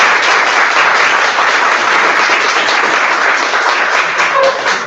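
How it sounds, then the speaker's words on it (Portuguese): Dense, steady applause from an audience at an educators' course session, filling the whole stretch loudly and evenly without pause. "eu vou pedir para vocês um forte aplauso para minha amiga Lília Mello"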